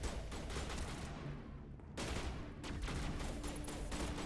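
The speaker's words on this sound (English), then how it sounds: "Why are they shooting at the rock?" Gunfire from the video game Mass Effect Legendary Edition, a steady dense stream of shots with a brief lull near the middle before the volley resumes at the same close, moderate level, with no talk over it.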